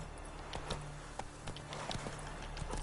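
Roach the horse's hooves clip-clop at a steady walking pace in The Witcher 3, each hoofbeat a crisp, fairly close knock over quiet outdoor ambience.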